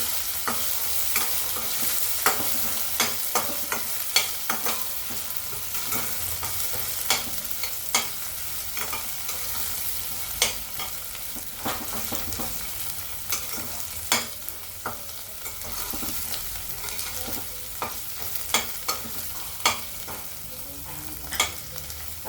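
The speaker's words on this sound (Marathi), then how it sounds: "आता आपण याला ठेसाला चांगलं परतून घेऊ" Thecha of garlic, cumin and green chili stir-fried in a pan for methi chutney, a constant hot sizzle punctuated by frequent sharp spatula clicks and scrapes, close and sustained with no speech.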